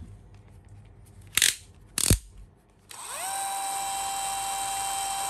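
A Dewalt DCD999 drill set to speed 1 spins up after two short knocks, then runs alone as a steady, smooth, even whine to the end.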